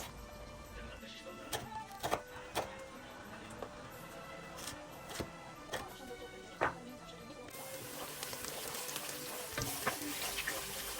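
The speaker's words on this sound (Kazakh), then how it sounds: "Қызған маймызға пиязымызды салып, 5 минуттай сарғайғанша қуырамыз." Steady sizzling and crackling of onions frying in hot oil, with occasional sharp clicks and taps from stirring throughout.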